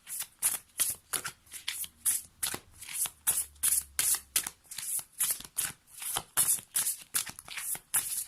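Oracle cards being shuffled by hand in a quick, regular rhythm of crisp riffling bursts, close and clear, repeating steadily with no talking.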